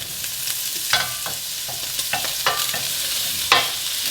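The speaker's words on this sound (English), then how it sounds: "So there we have a half a stick of butter thrown in here and it's melting very quickly" Half a stick of butter melts and sizzles in a pot for corn chowder, a steady frying hiss with occasional sharp pops and stirring scrapes, close and alone.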